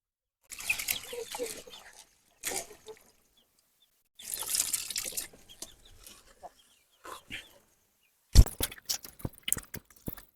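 Herbs for a homemade chicken remedy are rinsed and scrubbed by hand in water, giving several bursts of splashing and sloshing separated by pauses, with a sharper clatter of water near the end.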